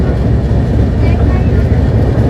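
The MAS–LTT superfast express train runs through the hills near Lonavala, heard as a steady, loud, close rumble of wheels and carriage that continues without a break.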